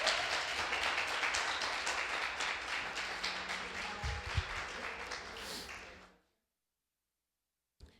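Congregation applauding at a church service, a dense wash of clapping that holds steady for about six seconds and then cuts off to silence, with a low sustained tone beneath.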